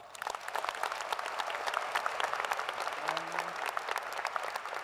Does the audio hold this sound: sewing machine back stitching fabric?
no